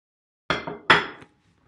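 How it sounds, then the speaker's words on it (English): A small plate is picked up from a stack in a kitchen, two close ceramic clinks and knocks, then quiet. "Just gonna grab a small plate."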